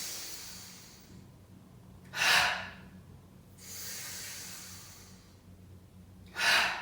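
Slow, deep breaths during a guided breathing exercise, heard close and soft: two sharp, airy inhales stand out, with a longer, gentler breath between them, over a quiet background.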